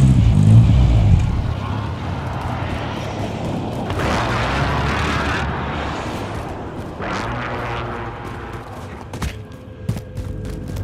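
Vehicle driven in Call of Duty Warzone, a steady low engine rumble throughout with distant booms and scattered impacts over the top.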